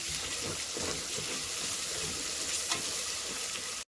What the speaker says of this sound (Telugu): టొమాటోస్ అయితే మగ్గిపోయాయి ఇప్పుడు కొంచెం పసుపు వేసుకుందాం మిక్స్ చేసుకుందాం